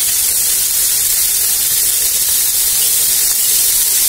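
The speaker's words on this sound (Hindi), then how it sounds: "अब मैं इसको कम से 2 से 3 मिनट बस हल्का गुलाबी तक आने के लिए, हल्का सा बस ब्राउनिश हो जाए उतना ही मैं इसको फ्राई करूंगी" Onions for an onion dosa fry in a pan, turning light pink and slightly brown; a loud, dense, unbroken hiss of sizzling oil fills the whole stretch, close and alone.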